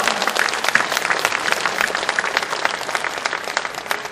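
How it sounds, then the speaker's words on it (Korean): Audience applause of encouragement for a candidate at a Busan party delegates' convention and joint rally, continuous crowd clapping with individual claps standing out, steady throughout. "박수를 부탁합니다."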